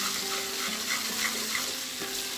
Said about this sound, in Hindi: ये मैंने लहसुन अदरक पेस्ट डाल दिया है गरम ऑयल में